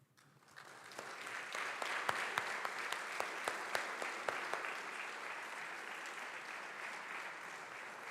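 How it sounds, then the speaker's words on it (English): Audience applause at a university State of the University address after team members stand to be recognized, steady dense clapping swelling in over the first second and continuing evenly throughout, moderately distant in a large hall. "May I ask members from any of those teams to please stand so we can applaud your work."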